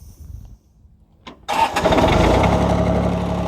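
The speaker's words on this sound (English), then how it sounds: "And you start the tractor." A John Deere 855 compact tractor engine cranks briefly after a quiet moment, then catches and settles into a loud, steady running note close by.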